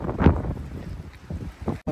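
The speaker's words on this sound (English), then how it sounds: "60 mile an hour gusts of wind right now, folks." Strong wind gusts of about 60 mph on a farm in Maine buffet the microphone in rumbling, roaring gusts, rising and falling with a brief cutout near the end.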